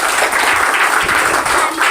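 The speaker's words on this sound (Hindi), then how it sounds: "शुरू करने से पहले एक बार जोरदार तालियां होना चाहिए।" A group of children bursts into loud, vigorous clapping before singing a poem, a dense, continuous rush of hand claps close by, with no voices over it.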